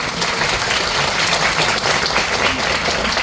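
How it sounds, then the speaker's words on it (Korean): Loud, close, dense clapping from a seminar audience, a steady wash of many hands filling the hall for a few seconds with no talk over it. "박수 한번 주실까요?"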